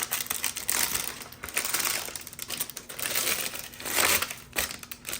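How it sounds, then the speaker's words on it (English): Parchment paper being crumpled and scrunched by hand to loosen dried sourdough starter, a steady close crinkling and crackling that swells and fades in waves with no talk. "you're just holding the parchment paper, basically just scrunching it up, and it comes right off"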